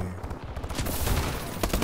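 Rapid bursts of gunfire in Call of Duty: Advanced Warfare crackle almost continuously, loud and close, as shots overlap into a dense barrage.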